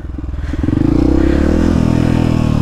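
A motorcycle revs and chugs up a steep rocky trail in São Paulo, its engine loud and close, with rapid pulsing firing and clattering over stones throughout.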